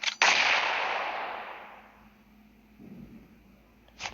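A grenade in a shooter video game is thrown indoors at close range: a sharp loud blast opens, its noisy roar slowly decaying over two seconds, followed by faint rustling and a brief sharp click near the end.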